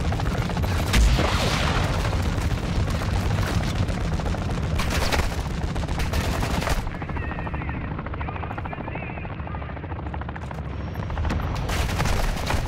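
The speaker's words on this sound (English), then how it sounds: "This is using a lot of missiles." Missiles fire and burst in rapid succession in the Call of Duty DMZ game, with heavy booms and crackling blasts over a steady rotor-like roar. The bursts are dense and loud, ease off around the middle, and then pick back up near the end.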